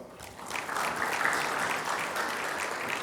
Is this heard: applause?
yes